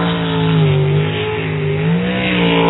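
A race car engine in qualifying holds a loud, steady rev, its pitch dipping and rising as the throttle eases off and comes back on.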